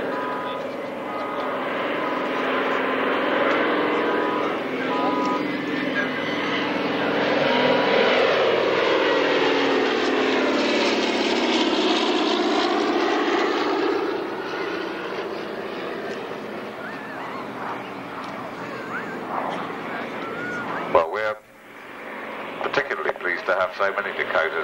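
Douglas Dakota aircraft flying at a warbirds airshow at Wroughton Airfield in 1994, a loud sustained piston-propeller drone that swells and sweeps in pitch as it passes, with a commentator talking over it throughout.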